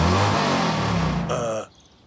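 An RV engine with a busted muffler revs loudly and roughly for over a second, close and rasping, then cuts off abruptly into near quiet.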